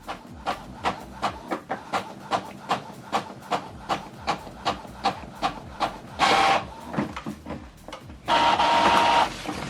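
An Epson XP 5200 printer copies a document double-sided with a steady run of rhythmic mechanical clicks and thumps as paper feeds, then two longer whirring, hissing passes.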